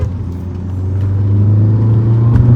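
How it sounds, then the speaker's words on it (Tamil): Stage 5 custom-turbo Skoda Laura 2.0-litre diesel car accelerating hard, a loud, close, steady engine drone that rises gradually in pitch as it pulls. "ஸோ வண்டி 100+லாம் வந்துட்டு இழுத்துட்டே போகுது."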